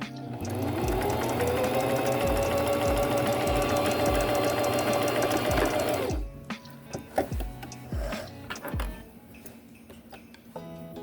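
Sewing machine stitching a sock, with a loud steady whir and rhythmic ticking that rises in pitch, runs for about six seconds, then gives way to scattered clicks and handling sounds.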